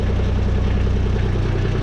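A Kubota RTV 900 utility vehicle engine idles steadily up close, with a constant low rumble and throb and no voices over it.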